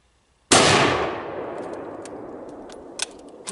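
A single loud, close .30-06 shot from a Savage Axis rifle cracks out and rings off into a long decaying echo outdoors, followed by faint metallic pings from steel targets downrange.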